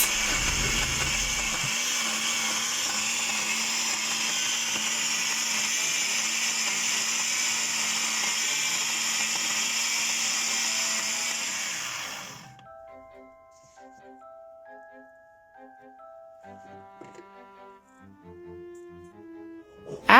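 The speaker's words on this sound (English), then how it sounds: "Now it's time to blend the nuts." A blender grinds nuts for homemade almond milk, a loud, sustained motor roar close by for about twelve seconds that cuts off abruptly and is followed by faint tonal beeps and clicks.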